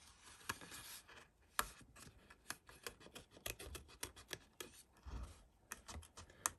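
Scissors snipping out a paper shape from a stencil card, a quick run of crisp, close cuts and rustles in an uneven rhythm, no talking.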